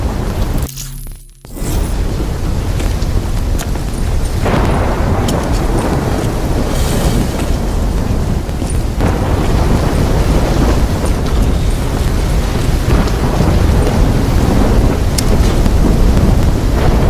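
Heavy rain pours down through a thunderstorm in Call of Duty Black Ops 3, with deep rolling thunder and wind gusts; a loud, dense, continuous roar that swells near the end, with no voices.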